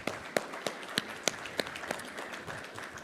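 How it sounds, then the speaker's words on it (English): Audience applause at a campaign event: soft, distant scattered claps patter for a few seconds, a handful of sharper individual claps standing out over a diffuse crowd wash. "A round of applause."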